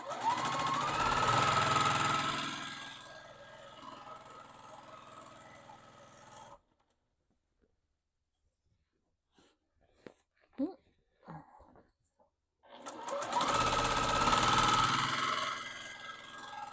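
A sewing machine stitches a throw or shawl along a marked line, a steady whirring run that stops, leaving near silence with a few small clicks, before the machine starts humming again.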